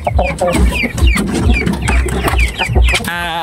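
Aseel hens and chickens cluck in a quick, repeating rhythm, close and fairly loud, with one drawn-out call at the end.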